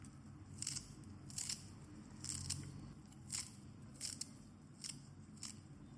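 Fresh coriander leaves being cut in a home kitchen for a Kathiyawadi stuffed bitter gourd curry. About eight crisp snipping cuts come at an uneven pace, close and clear against a faint background hum, with no talking.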